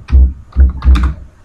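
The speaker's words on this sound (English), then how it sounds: "You need to type import" Keys clack on a computer keyboard while code is entered into a Python shell, with three close, solid bursts of keystrokes separated by short pauses.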